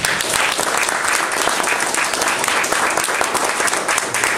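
Sustained applause from an audience at a disability sports association policy workshop, dense steady clapping filling the room without a break.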